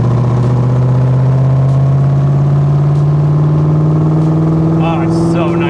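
A 1965 Backdraft Cobra's engine drones loud and close while driving in third gear, a steady throaty hum whose pitch creeps slowly upward as it pulls, with brief higher squeaks near the end.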